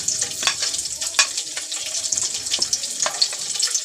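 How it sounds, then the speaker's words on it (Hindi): Nigella and fenugreek seeds sputter in hot oil, a loud, close and continuous sizzle with sharp crackling pops scattered throughout and no talk. "ऑयल गरम कर लिया है हमने, ये कलौंजी डाल देंगे, मेथी दाना"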